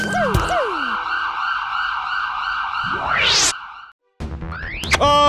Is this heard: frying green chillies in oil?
no